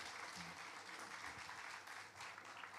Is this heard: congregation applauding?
yes